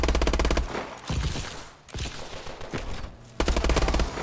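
Rapid automatic gunfire in the Call of Duty video game, loud and dense bursts broken by brief pauses, close and continuous with no talk.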